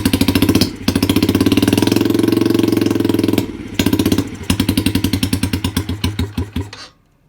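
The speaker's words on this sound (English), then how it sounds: "I'll rev it up a tiny bit. It's really loud." A dirt bike engine revs loudly up close, holding a sustained roar before breaking into choppy, pulsing blips that slow and fade out.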